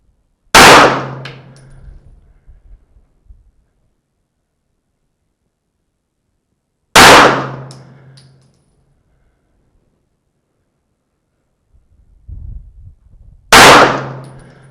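Three pistol shots fired at 50 yards from a rest on an outdoor range, each a loud sharp crack with a brief ringing tail, spaced several seconds apart, with faint handling noise between them.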